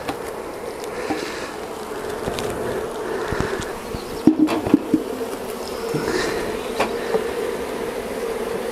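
Dense, steady buzzing of many honeybees close by around a hive frame, with occasional louder bees passing near and a few soft knocks in the background.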